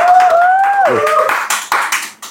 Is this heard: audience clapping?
yes